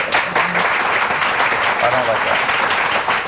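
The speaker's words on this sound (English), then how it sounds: "Show by your applause." A theatre audience at a live stage show in Halifax, Nova Scotia, breaks into steady, dense applause to answer a poll, filling the whole stretch while a voice speaks briefly over it.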